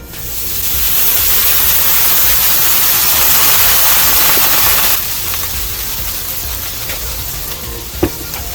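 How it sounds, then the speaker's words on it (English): A loud, steady sizzling hiss of water sprayed onto a hot Blackstone griddle fades somewhat midway and continues softer, with a small clink near the end. "we want to take a little bit of this water and just spray it onto the surface"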